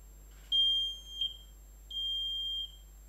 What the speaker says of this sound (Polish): to urządzenie w przypadku wykrycia czy tlenku węgla, czy też dymu, emituje bardzo głośny sygnał dźwiękowy